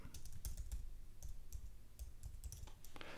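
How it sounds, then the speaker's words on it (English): Quiet typing on a computer keyboard, a scatter of soft, uneven key clicks over a low steady hum. "I'm going to type in YouTube Workspace."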